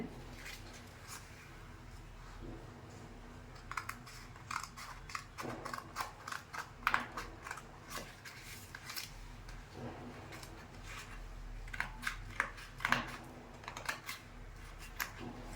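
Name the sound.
cutting blouse sleeve fabric pattern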